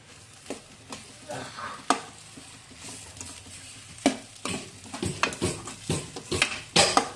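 Pudina (mint) rice being stirred and mixed in a hot pan on the stove, with scraping spoon strokes and light clinks against the metal over a soft sizzle, no voices.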